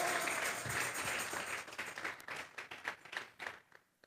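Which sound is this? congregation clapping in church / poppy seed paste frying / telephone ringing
congregation clapping in church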